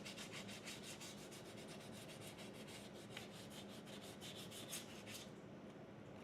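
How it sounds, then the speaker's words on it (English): Steady, close rasping strokes of wet sanding on a painted War Machine armor suit part, rhythmic back-and-forth rubbing that continues for about five seconds before stopping. "That's why I'm doing a wet sand with it."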